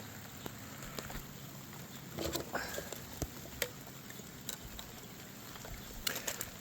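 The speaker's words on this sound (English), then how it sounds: "it's raining pretty good right now" Steady rain falls outdoors, a dense broadband patter with scattered sharper drips and a few louder splashes, holding evenly throughout with no voices.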